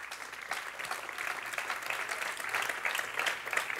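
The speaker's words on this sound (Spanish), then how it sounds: "Dele un aplauso al Señor." A church congregation applauds during a bilingual Spanish-English sermon, a steady, moderately loud wash of many hands clapping for a few seconds.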